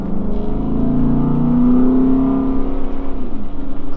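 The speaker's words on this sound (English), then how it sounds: "One of my favorite things about the Escalade is the way that this engine sounds." A third-generation Cadillac Escalade ESV (2007–2014) V8 accelerating from inside the cabin, a loud, close, throaty engine note rising steadily in pitch under throttle and then easing off, with no voices.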